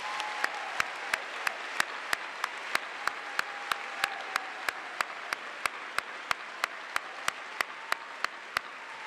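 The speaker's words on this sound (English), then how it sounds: "Let's give her a round of applause." A law school commencement audience applauds steadily for about nine seconds, a dense even wash of clapping with sharp regular clicks recurring throughout.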